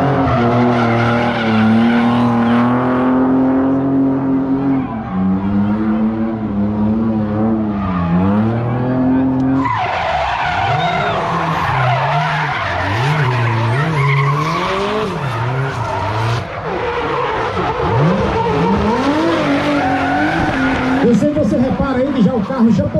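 Drift cars at a Brasília drifting championship slide through corners with long, loud tire squeals and revving engines, a continuous screeching roar heard from nearby.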